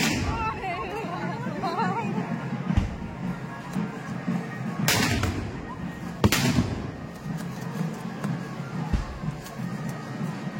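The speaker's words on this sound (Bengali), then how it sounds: "ওখানেও প্রচুর প্রচুর বাজি দেওয়া হয়।" Firecrackers and fireworks burst at a Kali puja immersion ghat in Harindanga, with sharp loud bangs at irregular intervals over a constant crowd hubbub and nearby chatter.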